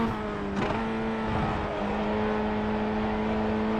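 A car on a race track revs hard after an early downshift, the engine whining at a high steady pitch with a brief surge partway through, loud, close and continuous.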